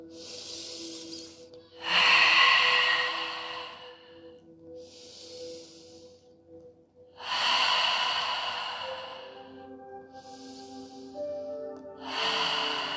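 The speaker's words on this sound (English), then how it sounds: "And breathe." Slow, deep breathing during a Pilates and yoga flow: alternating long, hissing inhales and exhales repeat about every few seconds, close and clear, with no talking.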